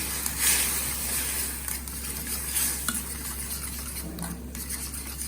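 Potato raita being stirred in a bowl, continuous soft scraping and swishing with a few light clinks of a spoon against the dish, close and steady throughout.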